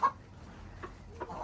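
Backyard hens cluck softly at a hatching coop, giving a few brief, quiet clucks spaced through the moment.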